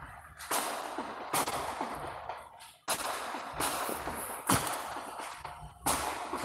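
Firecrackers going off outside at night, a rapid series of loud sharp bangs and cracks, some overlapping in bursts and others spaced a second or so apart, echoing like gunfire with no talking.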